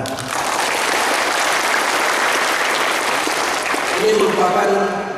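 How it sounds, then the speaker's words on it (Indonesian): Loud applause breaks out at a regional government gathering in Sorong, Papua, a thick, sustained clapping that swells quickly after a brief opening and holds steady, with a few voices and faint tonal sounds surfacing near the end. "Tepuk tangan."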